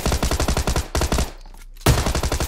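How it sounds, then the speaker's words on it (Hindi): Rapid automatic gunfire in the PC game PUBG Lite: loud, close bursts of evenly spaced shots, a short break with a quieter tail, then another fast burst. "ओके एक शॉट पड़ी इसको."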